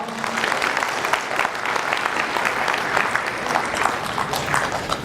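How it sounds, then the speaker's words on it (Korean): Audience applause at a lecture in a convention hall, loud, dense and continuous clapping for the whole stretch. "맞으면 박수 부탁합니다."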